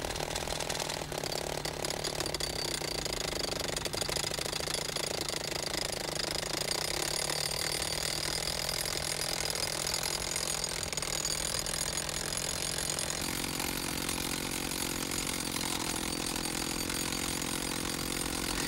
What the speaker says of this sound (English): When collaring a hole, reduce the speed and guide the drill steel with your foot.